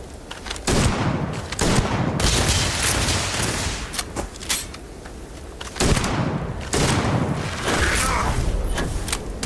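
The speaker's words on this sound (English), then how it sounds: "Take the shotgun to the face" Shotgun blasts from the video game Starfield, a series of loud, booming shots fired in quick clusters with brief gaps, close and heavy, with game combat noise in between.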